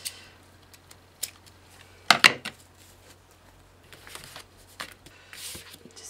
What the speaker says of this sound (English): So if we just grab the scissors